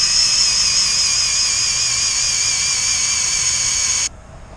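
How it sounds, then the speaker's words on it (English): A loud, high-pitched whine of a drill boring steadily into a tree trunk for about four seconds, then cutting off abruptly, leaving faint background noise. "we'll go ahead and drill our hole"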